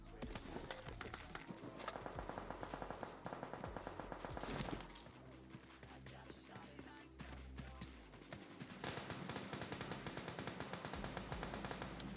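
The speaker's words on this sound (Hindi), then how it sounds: "मेरे को इतने में फायरिंग की आवाज़ आती है" Rapid bursts of gunfire from the mobile game PUBG on the Karakin map, dense and continuous, mixed with footsteps and action noise at low level.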